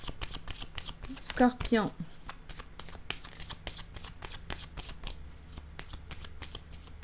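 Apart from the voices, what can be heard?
tarot cards being handled and placed down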